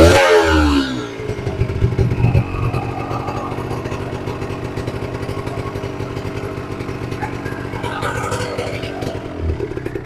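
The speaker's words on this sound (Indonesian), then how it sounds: "Kita on kan, lalu kita pancal. Itu bro, ini sangat enak, 1 kali engkol langsung." A Kawasaki Ninja RR two-stroke motorcycle kick-started on the first kick, followed by a steady, close, rattly idle that holds loud and even throughout.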